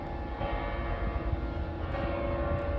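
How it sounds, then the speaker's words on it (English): Church bells ring in the distance, their sustained tones humming over a low rumbling background, steady and without voices. "I'm going to pause to let those church bells continue"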